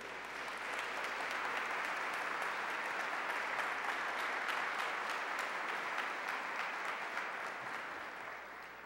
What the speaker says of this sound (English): Brothers and sisters, a big warm round of applause for Dr.